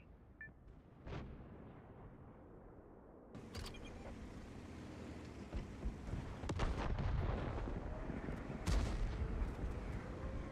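Heavy artillery in a tank video game, deep booming shots and rumbling impacts over a low engine drone, with sharp blasts standing out and the din building toward the end.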